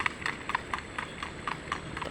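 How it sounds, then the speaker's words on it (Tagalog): Horse hooves clip-clop in a quick, regular trotting rhythm, moderately close, with a soft background hum. "Medyo patakbo ito ng kabayo"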